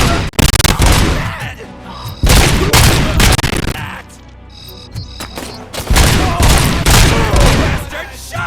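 Heavy gunfire in the video game Robocop Rogue City comes in loud, dense bursts with booming impacts and a short lull between them, close and overwhelming.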